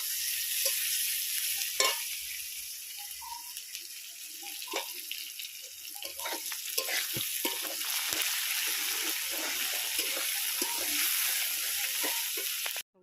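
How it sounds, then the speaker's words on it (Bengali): Onions frying in an oil-filled wok for a fish curry, a steady sizzling hiss close up with scattered crackles and stirring scrapes throughout, faint watery sounds mixed in, no talking. "পেঁয়াজ কড়াই দিয়ে দিয়েছি।"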